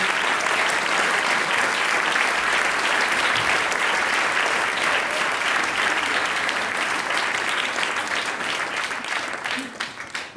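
A room full of people at a conservatory celebration applauds loudly and continuously, dense clapping holding steady before easing slightly near the end.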